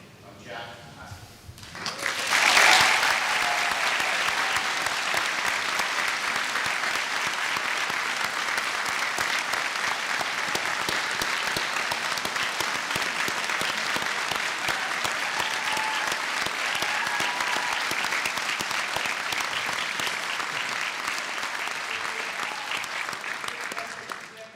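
Sustained audience applause at a PhD conferring ceremony at Limerick Institute of Technology, rising sharply after a quiet start and then holding a broad, even roar of clapping for over twenty seconds, with a voice faintly at the opening.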